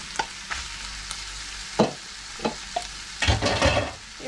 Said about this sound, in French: Et on va cuire tout doucement ce potiron jusqu'à ce qu'il ait rendu tout son eau.